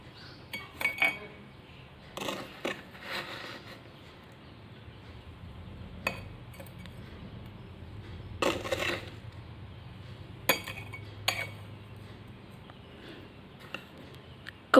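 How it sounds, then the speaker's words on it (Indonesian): Sand is added to a glass for a colloid experiment, producing scattered clinks and scraping taps of a spoon against glass, with quiet pauses between the bursts. "memasukkan pasir ke dalam gelas kaca"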